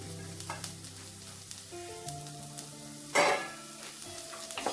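Sliced onions are stirred and fried in a pan for vermicelli upma. A soft sizzle runs under a sharp scrape near the middle, with faint steady musical tones in the background.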